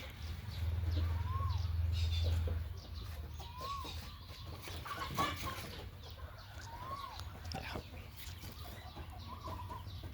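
Breeding rooster clucking at a farm, soft intermittent clucks and calls scattered over about ten seconds against a low background hum, with faint ambient noise.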